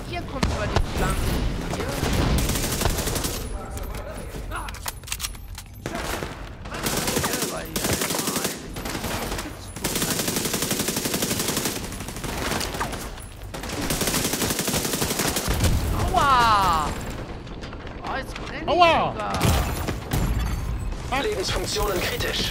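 Gunfire in the video game The Division 2 during a co-op invasion mission at the Space Administration HQ, with loud bursts of automatic fire and shots continuing throughout under dense game sounds while players talk.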